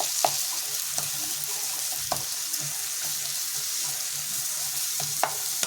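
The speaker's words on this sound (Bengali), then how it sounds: "এটা একটু এরকম নাড়াচাড়া হবে।" Onions and chili powder fry in a pan with a steady broadband sizzle, while a utensil stirs them in scattered scraping knocks throughout; close and continuous, with no talking.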